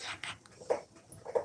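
A new puppy whimpers and whines in short, soft high-pitched bursts with breathy pants between them, close by and fairly quiet.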